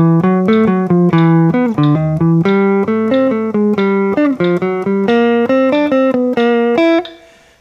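A guitar plays a rhythm exercise against a metronome, with a steady stream of picked notes in a syncopated shuffle feel that moves around the neck over several bars before the last note fades out.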